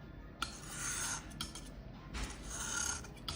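Homemade satin watercolor paint is scraped into a small pan in two short, close strokes, heard as faint raspy scraping and rubbing sounds with a brief click between them and no talking.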